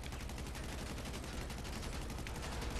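Rapid automatic gunfire in GTA 5, a dense, unbroken burst of loud close shots rattling continuously from start to finish with no pauses and no talking.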